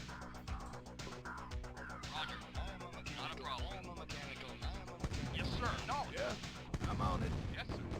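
Rocket squad firing on an enemy tank in the Command & Conquer video game: a steady stream of sharp cracks and blasts, busier and louder toward the end, with no talk.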